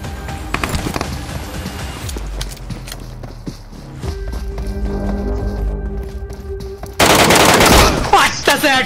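Gunfire in the mobile battle royale game BGMI, including a DBS shotgun, with scattered shots and game noise, then a loud, sustained burst near the end.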